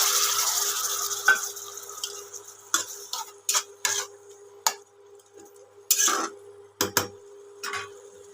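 A paste of curd, poppy seed and chilli with salt and turmeric lands in a hot wok, sizzling, followed by a series of sharp scraping stirs and clinks against the pan, close with no speech.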